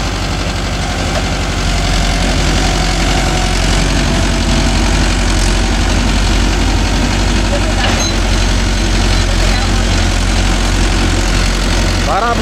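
Mahindra Yuvo Tech Plus 585 4WD tractor engine running steadily with a loud, low, throbbing diesel rumble and vibration, while a person talks over it.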